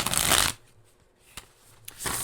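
Matte-finish tarot cards are bridge shuffled, giving a loud dense riffle that stops after half a second, then a quiet pause with small taps before a second flutter of cards begins.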